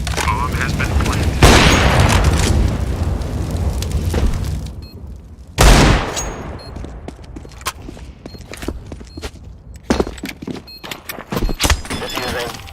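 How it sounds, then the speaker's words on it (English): In a Counter-Strike: Global Offensive match, a flashbang and a fire grenade go off as sharp, loud bursts. Crackling and scattered gunfire pops follow, with game radio voices talking over them. "Deploying flashbang. I'm throwing fire."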